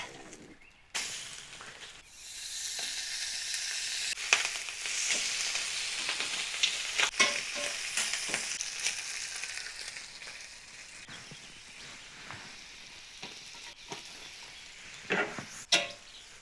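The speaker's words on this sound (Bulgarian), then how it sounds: "Сега си обръщам яйцето." An egg and bacon fry in a hot pan with a steady, close sizzle and hiss, dotted with sharper crackles and pops as the egg is flipped, and no voices.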